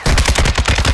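Rapid automatic RPK fire in a battle royale video game, a loud, close, steady stream of about a dozen shots in one continuous burst.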